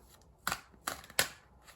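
Three quick riffling bursts of tarot cards being shuffled, close and crisp, separated by brief quiet gaps.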